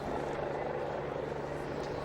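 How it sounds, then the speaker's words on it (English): Helicopters hover above a football stadium during the 2006 World Cup, their steady rotor drone forming a dense, continuous roar with a low hum, mixed with a broad wash of crowd noise from tens of thousands of England supporters. "As helicopters hover overhead"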